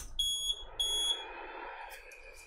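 An Anet E12 3D printer gives a loud, piercing electronic beep twice in quick succession, followed by a low whirring hum as it starts up.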